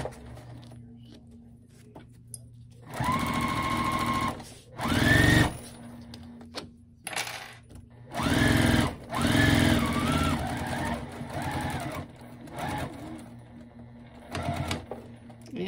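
A sewing machine back stitches a car trash bag in several bursts of fast, close motor stitching. Short quiet pauses separate the runs.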